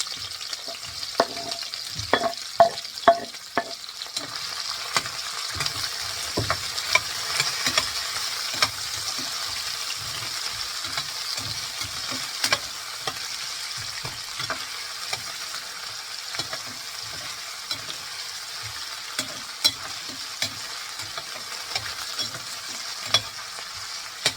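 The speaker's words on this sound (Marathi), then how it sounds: "हा गोल्डन ब्राऊन होईपर्यंत फ्राय करायचं आहे." Paneer slices with green chilli frying in a pan until golden brown, a steady close sizzle running throughout with a few sharp spatula taps and scrapes early on and scattered faint clicks.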